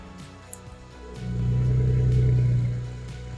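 A BMW 335i petrol engine cranks and catches after new injectors are fitted, then settles into a steady idle hum, close by, with no speech over it.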